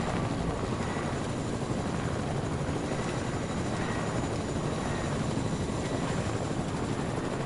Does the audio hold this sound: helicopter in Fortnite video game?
yes